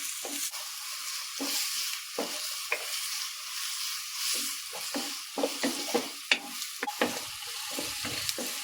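Ingredients for a spicy Kerala-style chicken pasta sizzle steadily in a pan while a spoon stirs and scrapes, giving irregular clunks over a constant frying hiss, close up and with no talking.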